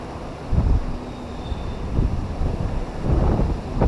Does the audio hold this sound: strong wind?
yes